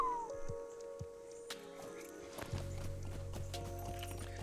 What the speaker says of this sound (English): Let's get on our horse at the very least.